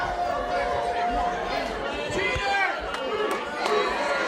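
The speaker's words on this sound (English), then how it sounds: "The crowd yelling cheater" A wrestling arena crowd yells and chants, a loud, continuous roar of many voices with a commentator talking over it.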